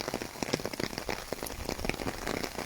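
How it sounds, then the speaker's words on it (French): Rain patters steadily on an umbrella during a summer storm in the Rhône-Alpes–Auvergne region, a dense, continuous crackle of close drops with no talk. "c'est un live sous la pluie, dans le parapluie"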